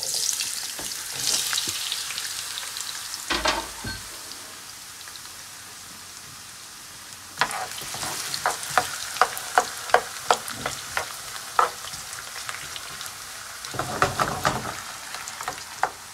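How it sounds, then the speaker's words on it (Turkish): Potato pieces deep frying in plenty of oil, a continuous crackling sizzle with bursts of louder bubbling and spattering, plus occasional stirring clatter. "patatesi normal patates kızartma gibi kızartıyoruz bol yağımızın içinde."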